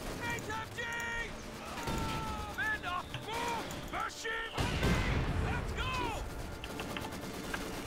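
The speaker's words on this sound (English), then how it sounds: "Here comes the mortars." Incoming mortar fire in Company of Heroes 2 lands as sharp, booming bursts amid a busy wartime battle din, with people talking over it throughout.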